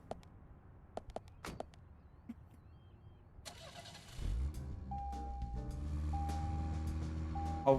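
A car engine starts in the game Deadly Premonition. A few scattered clicks and taps come first, then the engine cranks and catches into a steady, close idle hum with a thin sustained tone on top.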